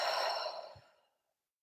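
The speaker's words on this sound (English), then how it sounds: "Take a deep breath and in" A single deep breath drawn in during a guided relaxation, a soft airy inhale that fades out, followed by silence and a faint low breath sound at the end.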